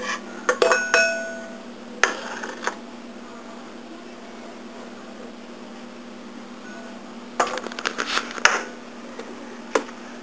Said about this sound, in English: Dump in your onion.